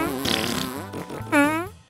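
A WowWee Minion MiP Turbo Dave robot plays its fart blaster sound effect, a loud, close electronic fart with a wobbling, drawn-out tone followed by a second rising blast, heard alone.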